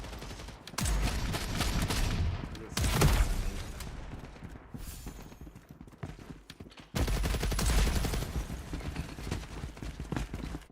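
DSR rifle and other gunfire in the video game FragPunk, loud dense bursts of shots in two busy stretches separated by a quieter gap.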